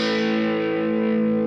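Tube amp played through a Two Notes Captor X with heavy reverb, a sustained distorted guitar chord ringing out and washing into a long, lush reverb tail, loud and alone with no voices.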